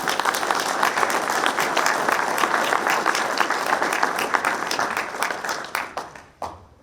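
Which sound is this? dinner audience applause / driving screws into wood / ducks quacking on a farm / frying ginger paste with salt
dinner audience applause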